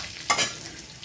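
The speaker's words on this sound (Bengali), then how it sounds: "ফোড়নটা একটু ভাজা হোক," Whole spices, cumin seeds, bay leaf, broken green cardamom and cinnamon, frying in hot oil for a Bengali prawn dish: a brief sharp crackling burst as they hit the pan, then a soft steady sizzle, no talk.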